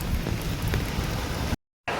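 Steady heavy downpour from cyclone Montha, a loud continuous hiss of rain on surfaces, cut by a brief silent gap near the end before resuming.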